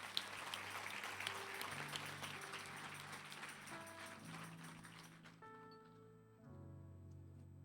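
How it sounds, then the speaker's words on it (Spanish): Congregation applauding God at a Spanish-language evangelistic church service, a faint, steady patter of many hands clapping under sustained keyboard chords, with the clapping fading out toward the end. "Denle un fuerte aplauso a Dios."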